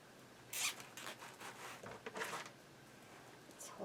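A plastic zip tie ratcheting tight while fastening a Dollar Tree craft cross, several short raspy zipping bursts at close range, the strongest one near the start, followed by softer handling rustles.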